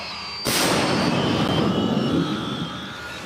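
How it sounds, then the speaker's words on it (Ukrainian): A single loud Ukrainian artillery gun boom bursts out sharply, fired at an infantry target, then a long rolling roar and echo fading slowly across the open air. "Зараз артилеристи готують гармату. Вочевидь, це буде піхотна ціль. Постріл!"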